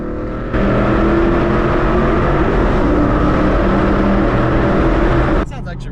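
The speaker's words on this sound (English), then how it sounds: "we've got a tunnel coming up here. What better time to test the exhaust?" Inside a tunnel, a 2014 Mustang GT with a loud aftermarket exhaust roars steadily and hard from a moving car, the booming drone abruptly cutting off near the end, with wind noise around it.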